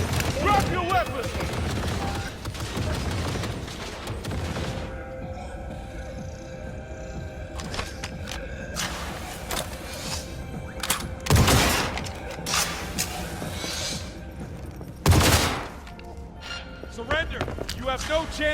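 Gunfire bursts in a Cyberpunk 2077 shootout during a police standoff at a station, with sharp loud reports cracking out intermittently over game noise and shouted voices.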